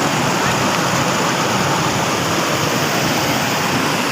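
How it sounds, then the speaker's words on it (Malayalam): Water rushing down a mountain stream in Kashmir over smooth, worn stones, a loud, dense and constant roar of flowing water close by with no breaks. "ഇത് വളരെ നീറ്റായിട്ടുള്ളൊരു സ്ട്രീമാണ്"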